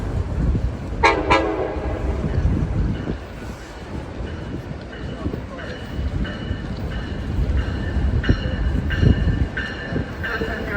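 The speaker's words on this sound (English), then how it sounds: "This is your Sacramento train. 534 to Sacramento. Now arriving." An Amtrak train pulls into Emeryville station and sounds two sharp horn blasts early on, followed by a continuous rolling rumble of the train arriving with a few fainter toots later, under a murmur of voices.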